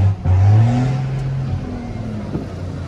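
A vehicle engine revs hard right after a gear change, loud and close, its tone climbing and then settling into a steadier drone.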